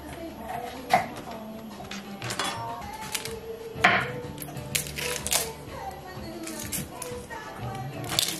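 Knife chopping onion on a cutting board in a home kitchen, a series of sharp irregular taps and clacks, close and moderately loud, with occasional louder knocks.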